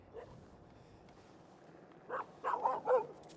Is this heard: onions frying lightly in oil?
no